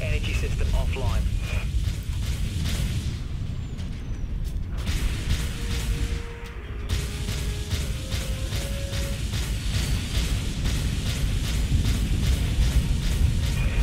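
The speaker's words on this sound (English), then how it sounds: "Big explosions." Explosions from warship combat in the video game Dreadnought, a dense continuous rumble of blasts and mechanical roar filling the whole stretch, loud and close with a brief dip midway, no talk over it.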